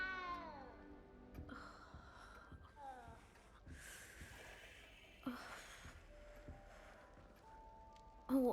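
A cat meows several times in Hogwarts Legacy inside the castle, short rising and falling cries mixed with other game sounds and a snort-like burst near the end, fairly quiet overall.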